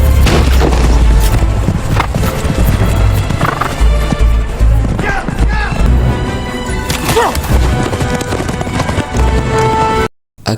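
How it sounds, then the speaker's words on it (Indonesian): Horses gallop in a battle chase with pounding hoofbeats, loud whinnies and booming impacts layered over dramatic sound, intense and close before cutting out abruptly at the end. "Komandan Asep pun mengirim beberapa penunggang kuda untuk mengejar Tomcat termasuk Mulan"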